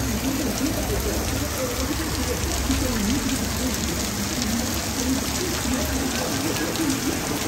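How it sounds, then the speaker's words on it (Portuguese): Steady rain falls in São José do Egito in August, a dense, even hiss that holds unchanged throughout, with no voices. "Mostrando pra vocês uma bela chuva aqui em São José do Egito, ó."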